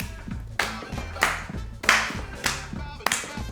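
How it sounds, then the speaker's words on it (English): Rhythmic hand claps during a dance exercise routine, about six sharp claps spaced roughly half a second apart over steady backing music. "Ready to clap?"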